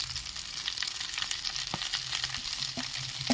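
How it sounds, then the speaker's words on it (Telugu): Drumstick leaves drop into hot oil tempering and sizzle steadily, a bright crackling fry with small pops and scraping stirs, close and continuous without any talk. "ఇదైతే తాలింపు వేగిపోయిందండి ములకాకు వేసేసుకుందాం"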